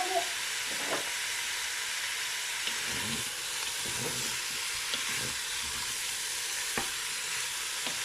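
Pork meat browns in a pan with a steady, close sizzle and hiss of hot fat throughout, with faint scraping and stirring knocks now and then.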